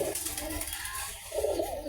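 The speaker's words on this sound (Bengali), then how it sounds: "সুন্দর একজোড়া বাচ্চা হয়েছে গিরিবাজের" Giribaj high-flying pigeons cooing softly in their nest, a few low close coos under quiet background.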